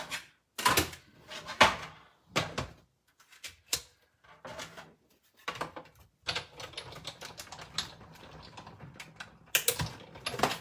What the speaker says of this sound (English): I'm going to run this through my die cut machine.